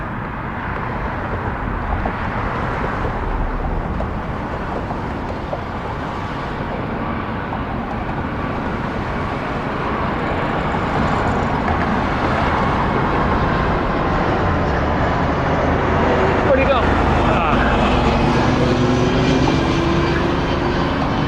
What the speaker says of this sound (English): Let's watch the plane land.